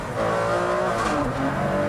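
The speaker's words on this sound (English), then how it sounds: "you get that lovely V12 engine behind you, the blip of the down change that comes automatically" Ferrari Enzo V12 engine on a race track, a loud steady high-pitched roar heard close and continuous, with no talking.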